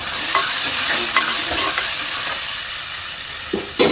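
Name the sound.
tomatoes and onions sautéing in pan for mushroom biryani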